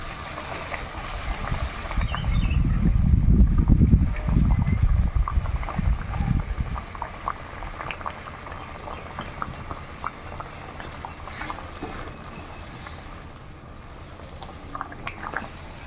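Curry gravy in a pot comes to a loud rolling boil for the first few seconds, a dense low bubbling roar that then drops to a quieter simmer with scattered small pops and clinks.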